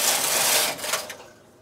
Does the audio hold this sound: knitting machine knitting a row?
yes